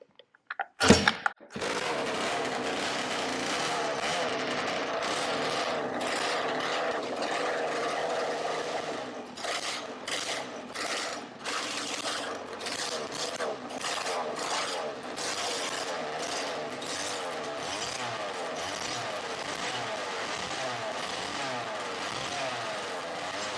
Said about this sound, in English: Oh man, I love a two-stroke. That thing is so cool.